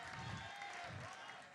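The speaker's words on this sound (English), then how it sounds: "give them a round of applause." Audience applause at a Splatoon 2 tournament prize ceremony, a short burst of steady clapping from the crowd at moderate distance.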